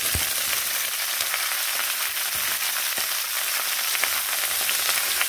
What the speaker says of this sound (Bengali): এবার এইভাবে নেড়ে নিচ্ছি। বেশ ভালোভাবে ভেজে নেব।